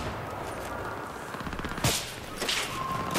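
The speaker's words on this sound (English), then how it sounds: "I totally shot that guy in the ass" Gunfire in the video game Battlefield 3, rapid bursts of shots over a busy, noisy battle background, with a couple of sharper, louder cracks close by and no talking.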